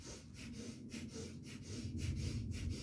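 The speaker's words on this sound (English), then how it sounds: "So we're doing the breath of fire." Rapid yoga breath of fire, quick rhythmic nasal exhales pumping from the belly, about two per second, close and steady for the whole stretch without talk.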